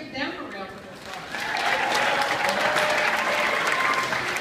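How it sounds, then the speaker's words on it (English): An audience at a math competition breaks into applause that swells after a brief voice at the start and then holds as dense, sustained clapping. "let's give them a round of applause."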